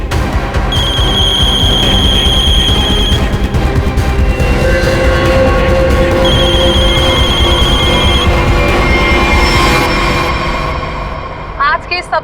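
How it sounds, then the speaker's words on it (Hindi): A telephone rings repeatedly in a steady pattern of bursts, loud and close, over a busy background hum with voices talking. "फोन उठाओ वीरेन, फोन उठाओ।"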